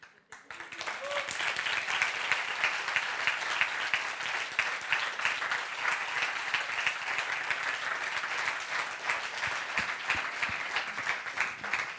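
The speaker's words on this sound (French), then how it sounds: "Vous pouvez encore l'applaudir, vous pouvez encore l'applaudir" Sustained audience applause at a talk event, dense and steady clapping from a sizable crowd that fades in quickly and holds evenly throughout.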